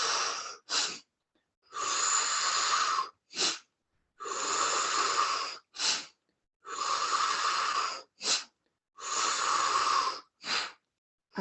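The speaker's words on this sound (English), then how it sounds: "Now return back to a long inhale through the mouth," Rhythmic Kundalini yoga breathing, long loud inhales through the mouth alternating with short sharp exhales through the nose, repeating steadily in four close, breathy cycles with no talking.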